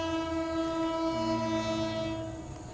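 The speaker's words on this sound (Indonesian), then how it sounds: "Kereta apinya sudah dekat." A long Pertamina freight train passes a station and sounds a loud, sustained horn with a steady chord. The horn shifts pitch partway through and then fades slightly, with no talking.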